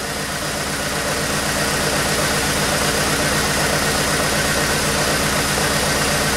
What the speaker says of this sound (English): You can see the engine is misfiring.